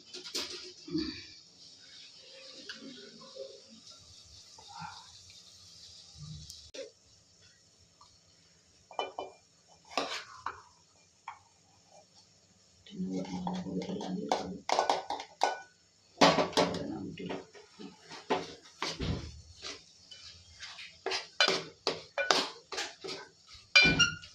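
Cooked dal being transferred from a pressure cooker into a pot, with a series of sharp metallic clinks and scrapes of a ladle against steel vessels, irregular and fairly close, growing busier toward the end.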